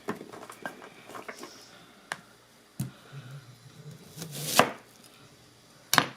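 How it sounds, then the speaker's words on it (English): Knife chopping a cheap onion into rough chunks on a board, a run of uneven thuds and taps with a couple of sharper, louder cuts near the end, no talk. "I'm just gonna kind of chunk the onion."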